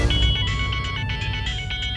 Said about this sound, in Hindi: मंजू बेईमान का फोन इतनी रात को।